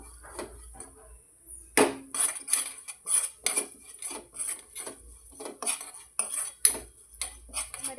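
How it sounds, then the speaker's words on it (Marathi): Metal spoon scraping and clinking rhythmically against a pan while stirring oats in hot ghee, quick repeated strokes close up with no talk. "हे खाली करपू नये म्हणून आपण हे सतत हलवत राहायचं"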